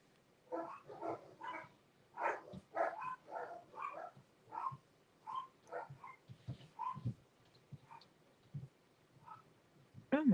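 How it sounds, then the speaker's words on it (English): Dogs bark repeatedly in the distance outdoors, a rapid irregular series of yips and barks in bursts with short gaps, fairly faint, with occasional low sounds nearby. "listen to those dogs bark"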